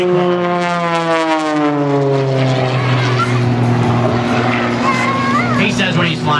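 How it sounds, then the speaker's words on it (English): Propeller aerobatic airplane, the Cyclone flown by Kevin Colman at an air show, with a loud, steady engine drone and gliding pitch shifts as the plane tumbles, under an announcer's continuous voice. "So it's the propeller that helps the airplane tumble through the sky like that."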